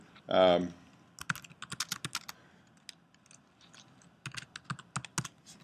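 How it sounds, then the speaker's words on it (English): A short voice at the start, then light, irregular clicks of typing on a computer keyboard, tapping in quick bursts with brief pauses, fairly quiet and close. "This is bad typing."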